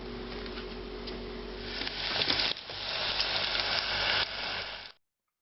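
Battered cauliflower florets hiss and sizzle in a deep fryer, a steady bright crackle that swells louder midway and then cuts off abruptly.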